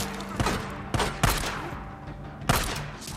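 Several gunshots crack out in Days Gone, four sharp reports spaced unevenly across a few seconds against a quieter backdrop of game ambience.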